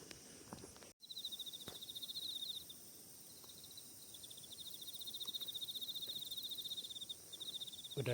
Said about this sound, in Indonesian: Udah ada suara jangkrik.